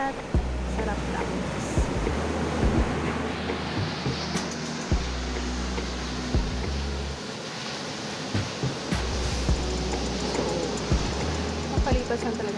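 Sea waves wash onto a beach in a continuous surf roar with soft repeated swells, and low wind rumble sits beneath it throughout.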